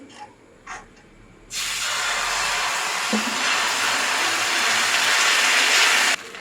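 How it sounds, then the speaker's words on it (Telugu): Fenugreek dosa batter poured onto a hot kadai, a sudden loud sizzle bursting in after quiet and holding as a steady hiss for several seconds before cutting off. "కడాయి అయితే వేడెక్కిపోయింది దోశ వేసుకుందాం"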